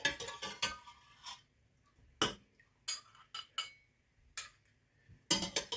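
A metal pot holding cowboy candy canning jars is turned by hand, giving sharp scattered clinks and knocks of metal and glass in irregular bursts with quiet gaps between.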